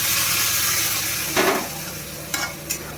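Prawn, potato and pumpkin curry stirred in a pan after water goes in, a steady simmering sizzle with a few brief scraping strokes of the spoon.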